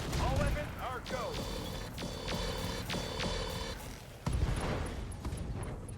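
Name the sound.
mech weapons firing in video game RogueTech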